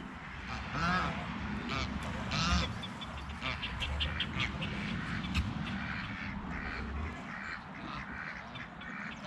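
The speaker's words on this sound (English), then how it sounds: "Look at those geese, Emmy." Geese honk and quack out in a yard, a steady run of nearby calls throughout, with people talking over the birds.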